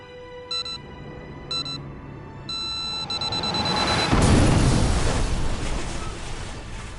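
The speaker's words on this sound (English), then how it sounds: "As the explosion tore through him." A rumbling blast in the video game 428: Shibuya Scramble swells after a few electronic chimes and tones, rising into a broad roar that peaks midway and slowly fades as a long, heavy wash.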